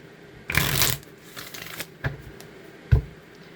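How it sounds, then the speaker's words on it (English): A deck of tarot cards is shuffled in a quick riffling burst, followed by a few softer taps and card slaps, close and clear, with no voices. "that was not a good shuffle"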